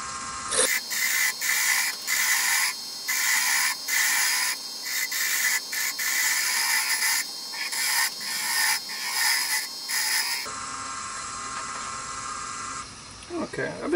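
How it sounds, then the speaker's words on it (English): A wood turning tool cuts an offset hammer handle on a lathe, producing a steady, rough scraping and rubbing with regular pulsing as the workpiece spins, loud and close for about ten seconds before dropping to a quieter hum. "I've been doing all the turning with this tool. It's cutting quite well"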